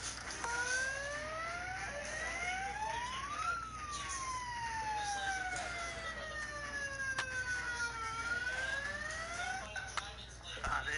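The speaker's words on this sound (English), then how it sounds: "I'm gonna turn turn the megaphone on siren mode and throw it in there" Wailing siren from a megaphone switched to siren mode in a video game, sweeping up and down steadily and loudly for the whole stretch with no voices over it.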